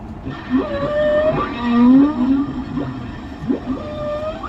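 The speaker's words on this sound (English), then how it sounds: "the humpback whales are checking us out" Humpback whale calls echo through the hull of the USS Blueback, a submarine once homeported in Hawaii: a series of long, wavering moans and rising whoops, some swooping and some tonal, repeating over several seconds against a low background rumble.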